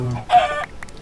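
Chickens cluck in the Minecraft video game, with a couple of short clucks in quick succession, clear and close, and no talking.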